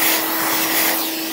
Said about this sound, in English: You want a real quiet vacuum, not one like this.